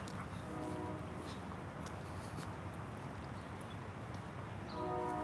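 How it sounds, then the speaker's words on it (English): A distant train horn sounds in two short tonal blasts, one near the start and one at the end, over a steady low outdoor rumble. "The train horn is synced."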